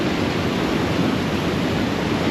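A waterfall roars close by as a dense, even wash of crashing water, loud and unbroken for the short stretch, with no voices.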